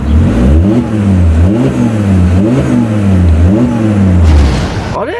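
A car engine revs repeatedly, rising and falling in loud, close bursts, a steady rhythmic cycle of acceleration before easing off.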